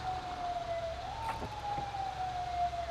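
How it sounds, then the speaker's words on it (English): A police car's manual siren in GTA 5 sounds as one rising and falling wail. It is fairly faint and continuous over a low background rumble, with no voices. "We don't have to listen to this manual siren."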